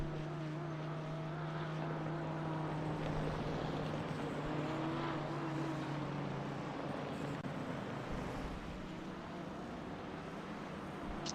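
GT1/GTE race car engines roar in the iRacing simulator at Interlagos, a continuous loud engine drone whose pitch slowly rises and falls as cars pass, filling the whole stretch without pause.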